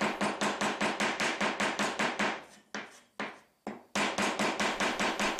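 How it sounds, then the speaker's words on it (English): The round end of a Japanese hammer gently taps wood in a woodworking joint, giving a steady run of crisp, evenly spaced knocks, then a brief pause with a few slower taps before the rapid tapping resumes. "Make sure to gently tap with the round end."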